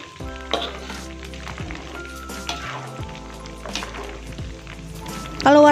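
Spice paste for galangal fried chicken sizzles steadily in hot oil while being stirred, a constant crackling hiss with soft scraping, ending in a louder clatter of utensils against the pan.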